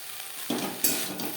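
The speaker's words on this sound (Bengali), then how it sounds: "গ্যাসের ফ্লেমটাকে মিডিয়ামে করে দিয়ে 2-3 মিনিট নাড়াচাড়া করে নেব।" Drumstick flowers and eggplant stir-fry on a medium gas flame, giving a dense, bright hiss of sizzling oil with a couple of brief scraping stirs close by.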